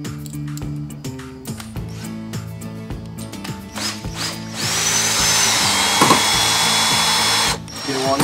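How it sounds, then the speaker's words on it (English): A cordless drill drives a screw into wood to mount a fishing bracket. Short whirring bursts at first, then a steady, louder sustained run as the screw sinks in, stopping near the end. "Take your cordless drill."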